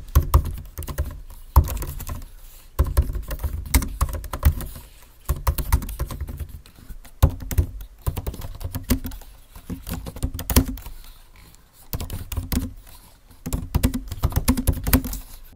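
Rapid typing on a 14-inch MacBook Pro M1 Pro laptop keyboard, close and crisp, with quick irregular key clicks in bursts and brief pauses, no voices.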